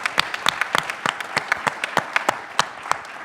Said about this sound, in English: we should just give a round of applause just for that